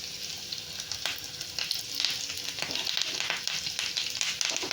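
Close, crackling sizzle of curry leaves and sliced shallots frying in hot coconut oil, a dense bubbling hiss with frequent sharp pops, steady and loud with no talking.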